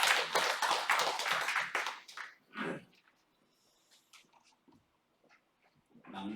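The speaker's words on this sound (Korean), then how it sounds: "우리 하나님께 영광의 박수하겠습니다" A church congregation clapping in praise, a loud close burst lasting about two seconds before fading into near-quiet with a few faint scattered sounds.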